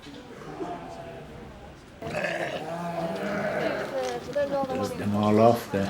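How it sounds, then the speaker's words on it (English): Lambs at an agricultural sheep show in the small breeders' class bleat repeatedly at close range, wavering calls rising over a busy background of crowd chatter and voices. "There's a nice show of lambs in the small breeders."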